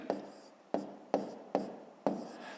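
Pen or chalk writing numbers for a long-division sum makes five distinct scratchy strokes in an uneven rhythm, each a short rasp that fades quickly, close and fairly quiet with no voice.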